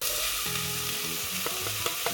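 Chickpeas hitting a pan of frying onions, a loud, dense sizzle that holds steady for a couple of seconds, close up and alone, with faint tonal clinks of the pan beneath.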